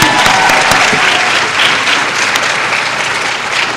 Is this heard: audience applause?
yes